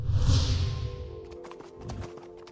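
A merchant's horse named Badal in an animated story clip-clops, with a sweeping whoosh at first and then a string of sharp, crisp hoof knocks.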